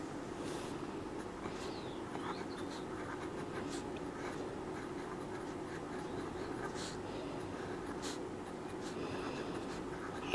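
A pen scratches steadily across paper while a math solution is written out, faint and close, with soft continuous strokes and small taps throughout.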